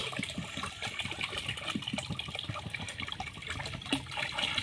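Water pours steadily into a sufuria cooking pot while ugali is being made, a continuous, fairly soft splashing and gurgling stream lasting throughout with no voices.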